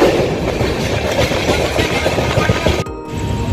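A train rolls into Dakshineswar station, with loud, steady rumbling and clickety-clack of wheels and carriages that drops abruptly near the end.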